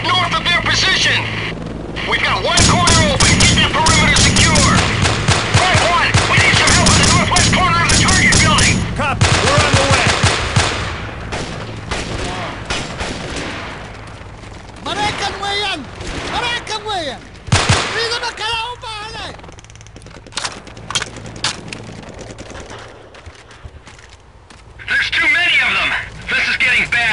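Heavy automatic gunfire in a war film about a helicopter crash battle: sustained machine-gun bursts and cracking rifle shots, loud and dense, easing into scattered shots with rotor and vehicle noise, while soldiers shout over the fighting.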